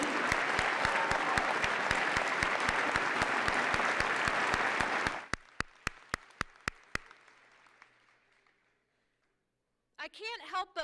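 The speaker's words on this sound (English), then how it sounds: "So let's give a big round of applause to the class of 2014." A winter commencement crowd applauds the graduating class of 2014 in a full, dense ovation that suddenly thins to a few scattered claps, fades into silence, then a voice begins speaking.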